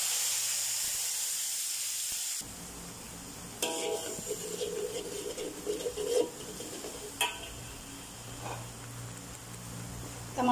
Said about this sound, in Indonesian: Ini dengan minyak yang sama kita tumiskan.